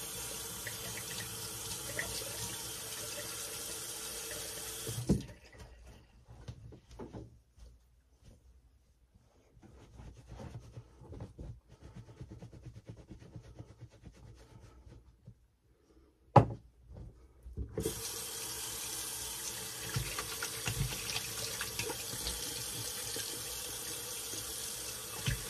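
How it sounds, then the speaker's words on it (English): A bathroom tap runs cold water for a rinse during a shave, a steady hiss that stops for several seconds with small clicks and handling noises, then starts again and keeps flowing close by. "Nice cold water rinse."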